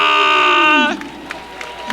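Basketball arena crowd at the end of the first quarter, Volcanoes vs Sabers, roaring loudly with a sustained cheer that fades after about a second into scattered crowd noise and a few claps.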